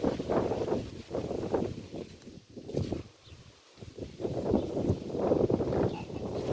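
Gusty wind buffets the microphone outdoors, a rough low roar that surges and dips in waves with a brief lull midway, filling the whole clip with no voices.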